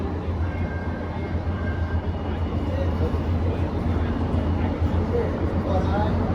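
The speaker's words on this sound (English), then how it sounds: "That's just the Long Beach bound train." A Metro A Line light rail train bound for Long Beach rumbles past in a continuous low, steady roar, with a faint squeal of wheels on rail above the broad noise.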